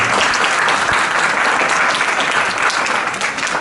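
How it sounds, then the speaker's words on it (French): A hall audience at an ACAJ Valenton event breaks into sustained, dense applause, loud and steady across the short stretch, easing slightly near the end, with no voices on top. "je vous demande de l'applaudir très sincèrement"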